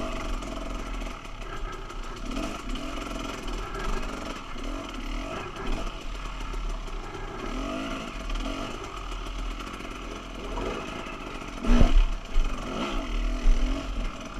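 An enduro motorcycle runs along a trail during a riding skills clinic, its engine droning steadily with throttle surges and a louder rev burst near the end, no voices over it.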